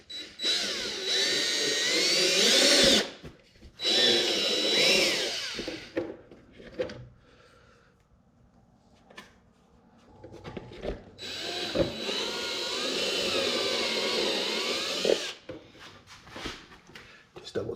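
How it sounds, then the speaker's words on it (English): A step drill bores a hole in the body of a compact tractor for an LED light bar install, whining in two long bursts separated by a quiet pause with small handling noises. "So I've got a step drill here, and this is what I'm gonna do it with."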